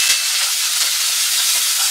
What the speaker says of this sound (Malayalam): ഇഞ്ചിയും വെളുത്തുള്ളി ഇട്ടിട്ട് നന്നായിട്ട് ഒന്ന് അതിന്റെ പച്ചമണം പോകുന്നോടം വരെ ഒന്ന് വഴറ്റിയെടുക്കണം